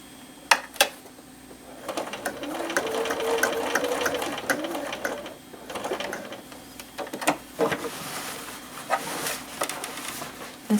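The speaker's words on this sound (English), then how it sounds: "going to sew around it and a little X in the middle" A sewing machine stitches a flat-bottomed tote bag in short runs, its motor rising and falling close by with sharp clicks and knocks between bursts.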